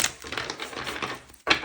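Tarot cards are shuffled in a quick burst of dense, papery riffling and clicking, close and moderately loud, ending in a short pause and then a final snap.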